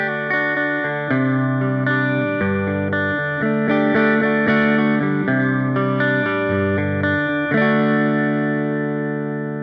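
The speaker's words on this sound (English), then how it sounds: "just the sound of the Artist 10 Anniversary Edition, which is 6L6." Electric guitar played through an Artisan 10 Anniversary Edition amp with 6L6 tubes, a sequence of clean sustained chords ringing with reverb and chorus-like shimmer, the last chord left to decay, no talking.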